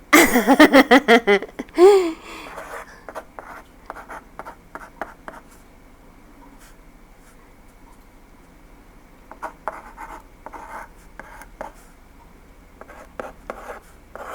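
Handwriting in English with a pen on paper: quick, close scratchy strokes, dense at first, then sparse, intermittent bursts of writing against near silence, with a faint chuckle early on.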